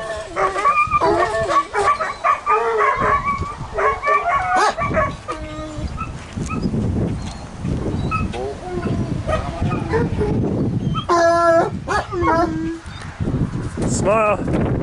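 Champion hound dogs at a roadside stop along Colorado Highway 318 near Maybell, several barking, yipping and howling loudly and close, with people talking among the dogs.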